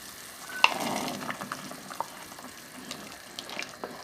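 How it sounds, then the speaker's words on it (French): Chickpeas tipped into a pot of simmering root vegetable minestrone, soft splashing and tumbling with a few light clinks over a quiet bubbling simmer, close and gentle. "J'ajoute mes pois chiches."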